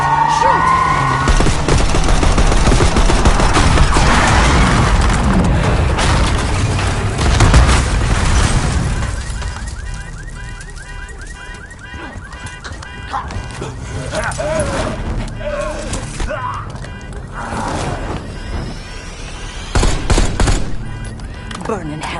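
Heavy gunfire and explosions in Black Ops 6 during a street fight, dense and loud at first and then thinning into scattered shots under shouting voices.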